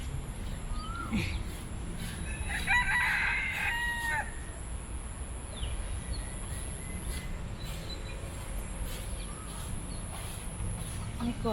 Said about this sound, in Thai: ไก่ขันไก่ขันนะ